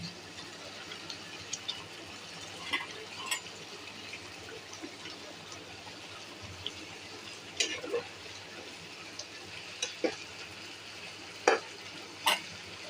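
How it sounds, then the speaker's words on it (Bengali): Eggs slipped into a pot of boiling potato gravy, a quiet simmering bubble underneath with scattered clinks and sharper splashy knocks from a utensil at the pot, close up and with no talking. "এর মধ্যে আলুর গ্রেভিটা বলক উঠে আসছে এখন আমি ডিমগুলো"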